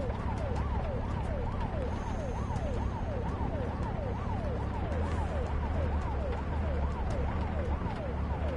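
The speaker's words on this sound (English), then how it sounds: "The ambulance will take care of it." Ambulance siren in the Truck Driver video game, a steady wailing that rises and falls in a regular rhythm throughout, loud over a constant low engine rumble.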